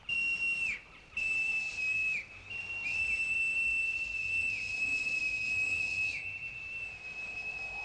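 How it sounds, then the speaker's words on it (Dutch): A long, steady, shrill whistle blown to call lost children in a dusky forest in an animated gnome story, sustained in loud bursts with brief breaks between them, heard alone. "Ik zal fluiten."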